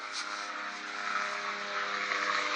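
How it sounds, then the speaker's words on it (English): A helicopter passes over an island campsite, its steady droning rotor and engine sound holding loud and continuous throughout with no break. "Helicopters coming by, checking out the fire party."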